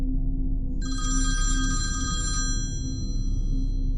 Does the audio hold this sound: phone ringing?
yes